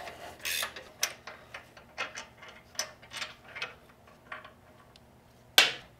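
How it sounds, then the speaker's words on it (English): A hand ratchet turning 13 mm bolts on a Vance and Hines Grenades motorcycle exhaust, giving close, crisp repeated clicks in uneven bursts, with one sharp louder clack near the end. "we're going to remove these 13 millimeters over here"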